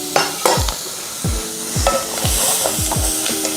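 Roux and onions for dirty rice are stirred in a hot pot, rhythmic scraping strokes about twice a second over a loud, close sizzle, with no voices.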